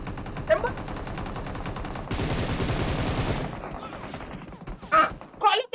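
Gunfire in a video game rings out in rapid bursts, with a dense, sustained volley in the middle, while players' voices chatter and shout around it.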